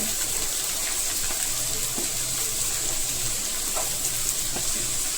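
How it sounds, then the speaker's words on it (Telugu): Chopped onions and green chilies sizzle in hot oil in a pan, a steady, hissing fry with faint crackles, close and even throughout. "ఆయిల్ కాగిన తర్వాత ఉల్లిగొందు వస్తున్నాం కదా, ఉల్లిగొందు, ఆనియన్, పచ్చిమిర్చి"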